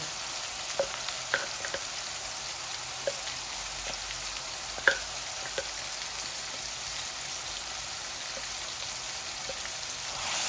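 Rohu fish pieces frying in a pan give off a constant, even sizzle with a few soft clicks and pops, and no voices over it.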